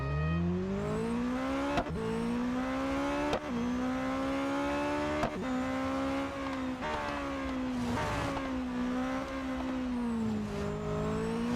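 A race car in Real Racing 3 runs an autocross event at Daytona, its engine droning loudly and continuously, pitch rising through each gear and dropping sharply at several quick shifts, with occasional tire noise and no talking.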